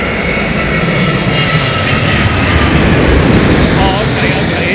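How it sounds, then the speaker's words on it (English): A Virgin Atlantic Boeing Dreamliner at Heathrow Airport gives off a steady, loud jet engine roar with broadband rumble that holds throughout, and faint voices sit underneath. "we're filming a Dreamliner, Virgin Dreamliner there"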